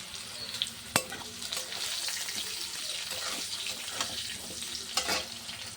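Potatoes with cumin, salt and turmeric frying in a pan, a soft steady sizzle near the mic, broken by a few sharp utensil knocks and scraping stir strokes, no voices.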